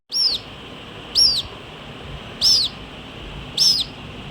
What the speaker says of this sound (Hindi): थोड़ी वैसी आवाज नहीं आ रही तुमको? कोयल की या फिर वो दूसरा ही चिड़िया रहती है?